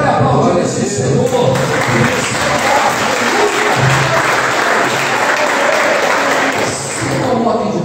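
A church congregation applauds during a worship service: loud, steady, crowded clapping that fills the room from start to finish, with voices mixed in underneath.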